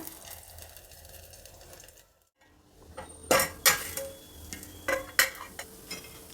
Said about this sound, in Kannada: ಈಗ ಒಂದು ತಟ್ಟೆ ಮುಚ್ತಾ ಇದ್ದೀನಿ.